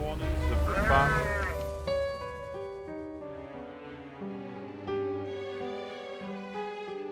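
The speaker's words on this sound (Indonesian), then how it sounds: "Peter berusaha menenangkan si domba yang terus mengembek" Sheep bleat repeatedly at close range in a run of wavering, drawn-out calls, while a voice talks under the bleats.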